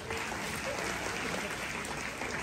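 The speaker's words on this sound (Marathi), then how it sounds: "या वहिनीसाठी जरा टाळ्या वाजवा" An audience at a village Home Minister game show claps for a woman contestant, with continuous, fairly faint applause and crowd murmur throughout.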